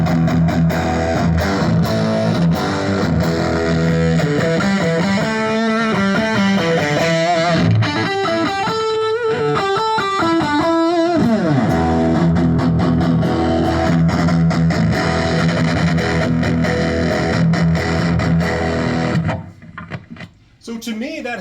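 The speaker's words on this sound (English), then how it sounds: "This is the kind of heavy distortion sound I can get out of the" A heavily distorted electric guitar played through a Roland GA-112 amp chugs and rings out riffs and sustained notes loudly and continuously, then stops abruptly near the end.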